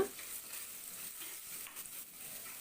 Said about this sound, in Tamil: ஒரு மீடியம் சைஸ் வெங்காயத்தை பொடியாக கட் பண்ணி சேர்த்து வதக்கி விட்டுக்கோங்க